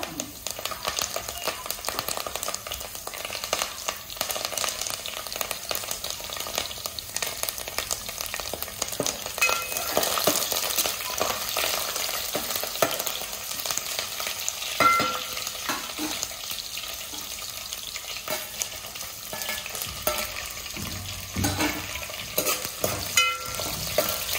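Fish frying in a pan, a steady, dense sizzle with occasional stirring clatter that runs throughout at close range, with no talk over it.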